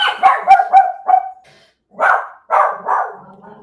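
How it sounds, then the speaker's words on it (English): A dog barks excitedly indoors: a quick burst of four or five sharp barks, a short pause, then three more loud barks close by, with no talking. "my dog is going crazy now"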